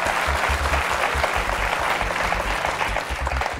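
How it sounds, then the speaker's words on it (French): Studio audience applause on the set of the French quiz show Qui veut gagner des millions?, a dense, steady roar of many hands clapping at full volume throughout, with no talk over it. "Mesdames, Messieurs, applaudissements."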